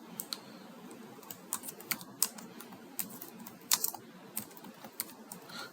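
A new payee name is typed on a computer keyboard as quiet, close, irregular key clicks in uneven bursts over a soft background hiss.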